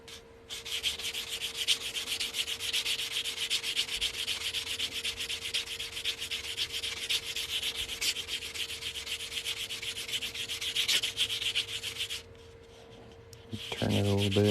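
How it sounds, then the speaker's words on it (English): Steady, close rasping as sandpaper works the cut edge of a size 13 ring made from a 1946 half dollar coin, continuous rubbing strokes that pause briefly before a voice begins at the end. "I'm going to sand this cut edge, make sure that's nice and smooth."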